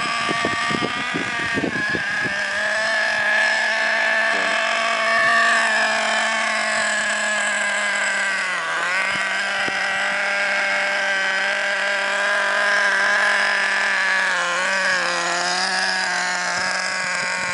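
Traxxas Revo 3.3 nitro RC truck engine running steadily, a loud high-pitched buzzing whine with slight pitch dips as it revs and eases, close by and continuous.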